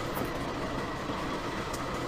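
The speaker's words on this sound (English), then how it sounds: "Around the rail line, the train is running" A train running along a rail line, heard as a steady, continuous rumble with broadband rolling noise that stays loud and even throughout, with no voices.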